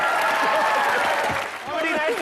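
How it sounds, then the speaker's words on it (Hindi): Studio audience applause greets a guest on a comedy talk show: a dense, loud wash of clapping that briefly dips near the middle, then swells again, with voices mixed in. "जोरदार तालियां"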